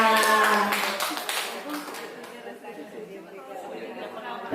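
Audience of parents and teachers clapping in a hall, loud applause at first that thins out into scattered claps while people chatter.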